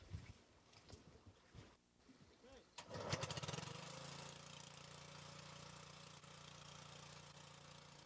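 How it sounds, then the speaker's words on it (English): Small Briggs & Stratton engine powering water pumps for weir fishing on Nantucket Sound, pulled a few times then catching and settling into a steady nearby running drone, with faint voices early on. "A small Briggs & Stratton engine powers the water pumps."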